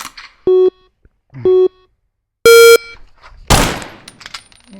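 A single gunshot in a shooting drill, preceded by two short electronic timer beeps and a longer third beep, then one loud, sharp report that decays quickly.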